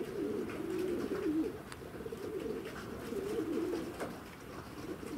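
Pigeons cooing on a morning outdoors, a steady low rolling coo repeating throughout, moderately close, over faint background ambience with no talking.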